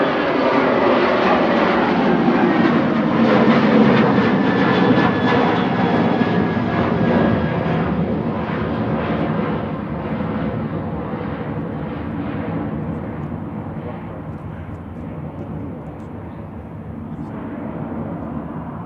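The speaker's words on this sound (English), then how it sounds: "EBA for Ryanair, flight 3222 to Brussels," Ryanair jet departing Manchester Airport for Brussels Charleroi, a loud engine roar that builds early then slowly fades and dulls as the aircraft climbs away, alone without talk.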